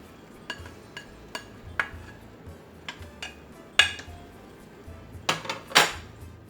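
Onions and garlic are dropped into a food processor bowl, a string of faint, sharp clinks and clatters of pieces and utensils against the container, spaced irregularly with a few louder knocks near the end.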